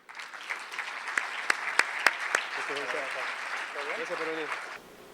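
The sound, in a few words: audience applause at a conference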